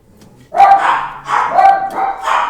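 Dogs bark indoors, loud and close, in three or four separate bursts of sharp barking mixed with yips over a couple of seconds.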